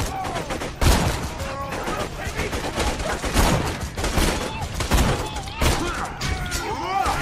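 Sniper rifle shots and heavy gunfire in a Borderlands 2 co-op firefight, dense and loud with repeated sharp blasts and thuds throughout, while players talk over the action.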